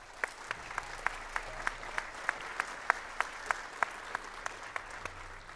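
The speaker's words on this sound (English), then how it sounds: "Let's give them a round of applause." Audience applause at a band concert: a soft bed of crowd clapping with one nearby pair of hands striking in a sharp, steady, evenly spaced beat throughout.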